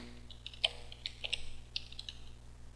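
Quick, light taps on a computer keyboard, a short uneven burst of clicks with brief pauses, close and fairly quiet over a low steady hum.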